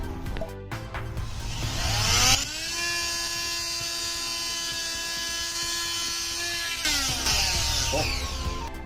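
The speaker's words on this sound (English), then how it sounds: "take this toilet brush, connect it to a drill, and clean it." A power drill spinning a toilet brush whirs steadily at high speed for several seconds, with its pitch rising as it spins up and dropping as it slows at the end.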